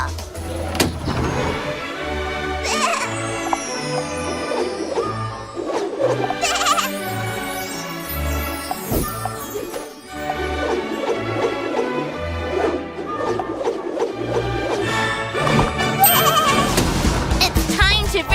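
A baby goat bleats in a children's cartoon about barnyard baby farm animals, with short bleats heard over bouncy background music and sound effects through most of the stretch.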